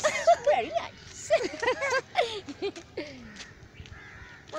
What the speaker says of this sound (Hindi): कराची में कौवे पाए जाते हैं ज़्यादा